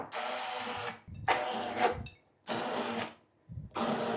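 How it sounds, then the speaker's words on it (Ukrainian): A blender chops boiled chicken into a fine, thick mass, running in four loud bursts separated by short pauses, close up and with no talking. "Тепер, друзі, просто потрібно блендером всю цю курочку перебити в таку дрібну-дрібну масу."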